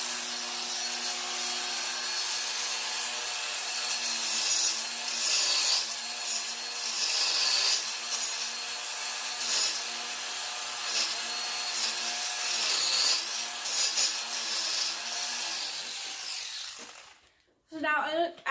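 Hoof Boss power tool grinding an animal's hoof during trimming, a close, continuous rasping buzz with uneven surges as it bites, stopping abruptly near the end.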